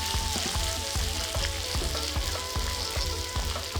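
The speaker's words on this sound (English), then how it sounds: "Let's check on potatoes and onion. Turning golden brown. I'm gonna mix it" Potatoes and onion fry with a steady sizzle in a pan while a utensil stirs them, giving repeated scraping strokes and soft knocks over the constant crackle, close and fairly loud.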